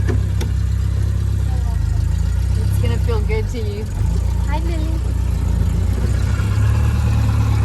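A classic car engine, driven for the first time in twenty years, runs at a steady low idle close by, a constant rumble beneath a voice and other people talking.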